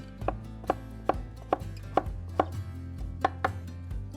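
A knife chops steadily through peppers on a cutting board, about ten crisp, evenly spaced knocks close up, with no talking.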